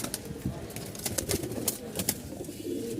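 Pigeons in a loft in Mirpur coo softly in short repeated calls, with faint rustling and wing movement close by.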